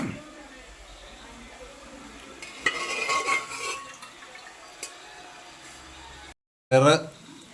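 Green beans and plantain are stirred in a pan, with a spoon scraping and clinking against the metal in bursts over a soft sizzle, broken by a brief silence and then a louder clatter; a voice is heard in the background.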